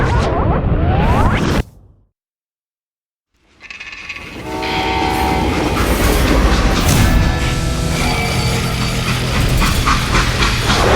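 Freight train running in the video game Call of Juarez: Gunslinger, a loud rumbling rail roar with clattering wheels and whooshing, cutting out briefly to silence before returning full and steady.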